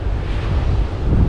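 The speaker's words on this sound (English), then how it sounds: "it's quite sunny now, but it's real windy" Strong wind behind a cold front on Australia's west coast roars and buffets steadily across the microphone, a dense low rumble with a surf-like wash, loud and continuous with no voices.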